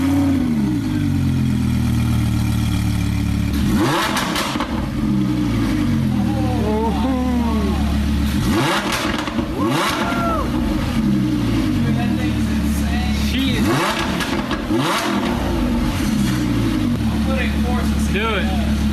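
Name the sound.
Lamborghini Huracan engine idling and revving with short exhaust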